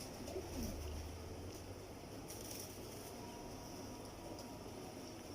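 Heera Lal pigeons coo softly in a Lahore loft, a low murmuring call over steady background hiss and faint distant rumble, with no talking.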